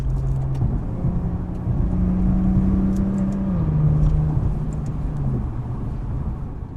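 A 2016 Maserati Ghibli S Q4 with a 3-liter twin-turbo V6 accelerates from inside the cabin, its exhaust drone rising and falling in pitch through gear changes, loud and steady under road noise.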